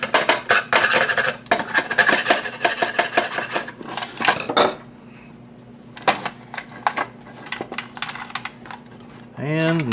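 Metal burr being cut out while assembling a solar mesh-radio node: a dense run of sharp scraping, clinking metallic strokes for about five seconds, then quieter sporadic clicks and taps, close and fairly loud, with no talking.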